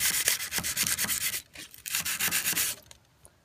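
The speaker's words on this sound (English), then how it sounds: "So I'm just going to keep going ahead and hand sanding it." Rhythmic hand sanding of an oiled steel knife blade, a series of quick back-and-forth rasping strokes up close, pausing briefly midway before fading out.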